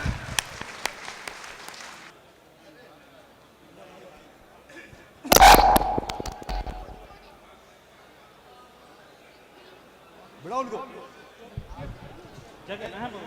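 A mushaira audience in Nuh, Mewat gives a short, loud burst of clapping to welcome a poet. A scattered patter comes before it, and quiet talk and faint noise follow.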